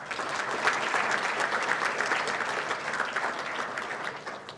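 An audience at a civil services event applauds the introduction of a UPSC topper, the clapping full and sustained from start to finish, a crowded hall of hands with no speech on top.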